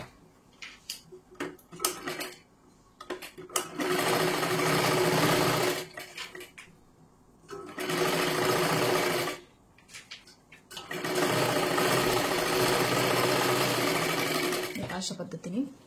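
Electric sewing machine running in three long bursts of stitching along an inner seam of a four-tuck blouse, separated by pauses with handling noise and quiet talk in Marathi.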